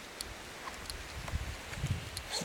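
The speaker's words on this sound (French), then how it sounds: "on pouvait entendre le vent" Wind sweeps across an open field at night as a steady, breathy rush with soft rustling gusts and faint bumps close by.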